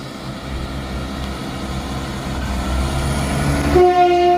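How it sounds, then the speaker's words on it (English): ScotRail passenger train pulling out of Ladybank station on a Dundee to Edinburgh service, a loud steady engine rumble that builds as it departs, with a short two-tone horn blast near the end and no talking. "Departing out now is the 1411 ScotRail service from Dundee to Edinburgh Waverley."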